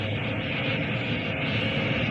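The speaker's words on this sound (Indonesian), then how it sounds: "Tiba-tiba terdengar pesawat milik Jepang sedang melintas." A Japanese airplane flies past over an island, heard as a loud continuous engine roar that stays steady and close throughout the brief moment, with no voices.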